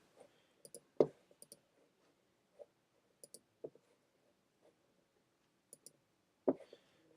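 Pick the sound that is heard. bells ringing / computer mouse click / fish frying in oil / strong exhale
computer mouse click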